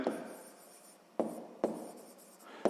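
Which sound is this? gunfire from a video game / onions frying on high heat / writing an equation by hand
writing an equation by hand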